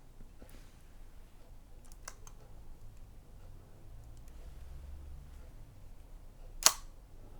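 A few faint mechanical clicks, then one sharp, louder camera shutter click firing at half a second near the end, close and isolated in a quiet room.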